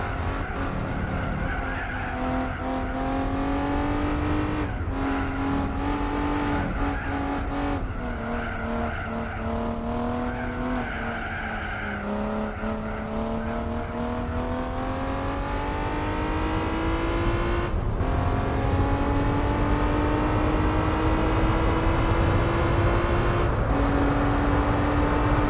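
Race car in Gran Turismo 4 with a steady, loud engine drone that climbs and dips in pitch through gear changes, plus brief tyre squeals and skids, continuous throughout with no talking.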